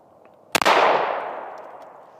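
A single sharp gunshot from a Smith & Wesson M&P 5.7x28 pistol cracks loudly up close, followed by a long echoing decay that fades over the next second and a half.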